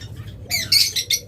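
Pet lovebirds kept in pairs for sale give a few sharp, shrill squawking chirps in quick succession, close and loud after a quiet start.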